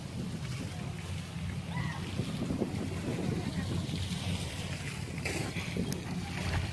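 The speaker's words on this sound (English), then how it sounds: "but it's a little windy here" Steady wind buffets the microphone in a constant rushing roar beside an outdoor pool on a breezy 85-degree day, with faint voices under the noise.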